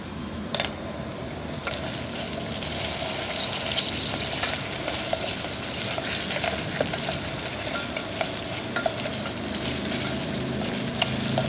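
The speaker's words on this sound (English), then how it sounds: "You'll want to saute these around, get them nice and brown and coated in that buttery goodness." Mushrooms sauté in butter in a pan, giving a steady, close crackling sizzle throughout with occasional sharper pops and stirring.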